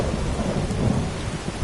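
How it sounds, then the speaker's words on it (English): A thunderstorm in the video game Skyrim, with steady heavy rain and low rolling thunder rumbling continuously throughout, fairly loud and with no voices. "Oh, the lightning though, and the thunder. Oh, the storm sounds beautiful."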